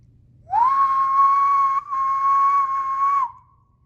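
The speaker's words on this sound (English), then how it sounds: "At the sound of the whistle, every crew member stopped what they were doing" A single loud, steady whistle blast lasting about three seconds, with a brief dip midway, sounding close and clear.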